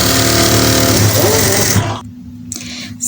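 Sewing machine stitching the corner of a pocket onto a trouser, a dense steady whir for nearly two seconds that cuts off, followed by quiet with a short burst of the motor again.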